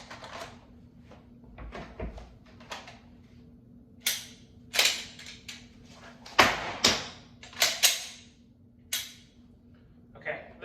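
Handgun magazine reloads during dry fire practice, a run of sharp metallic clicks and clacks in irregular bursts, close by, with a quiet steady hum underneath.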